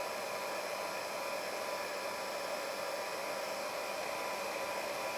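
Stampin' Up! heat tool on its low setting blowing steadily to dry a paper butterfly, a constant close airy whoosh with no talking.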